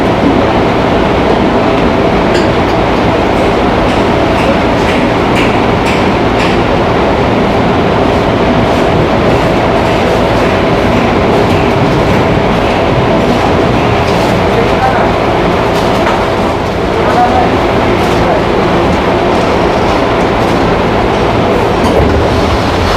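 A Jogja–Solo KRL commuter train rumbles along the rails from inside the carriage, a constant loud roar with faint rhythmic clacks and occasional voices beneath, with heavy rain outside.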